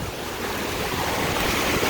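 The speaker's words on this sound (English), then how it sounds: "The waves are not that big now." Ocean waves wash onto a beach in a steady broad roar, mixed with gusty wind buffeting the microphone, with no voices.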